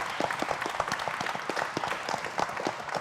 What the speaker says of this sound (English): So a massive round of applause for the Vice-Chancellor